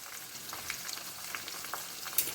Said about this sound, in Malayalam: ഓരോന്നോരോന്നായി ഇളക്കുക ശേഷം നമ്മൾ കഞ്ഞുണ്ണിയെല്ലാം ഇട്ടു എല്ലാം തന്നെ ഇട്ടു